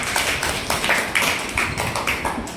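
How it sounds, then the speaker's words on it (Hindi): Children clap their hands together in a classroom quiz setting, a steady run of quick, close, moderately loud claps with no voices over them. "ताली बजाओ।"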